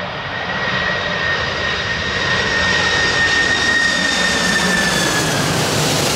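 Air Force One, a large jet aircraft, lands in Paris with a loud, sustained engine roar and high whine that stays close and steady throughout.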